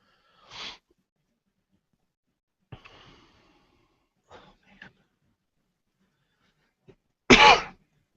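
Several separate coughs break an otherwise quiet room, a light one early, a couple of soft throat sounds, then one loud harsh cough near the end.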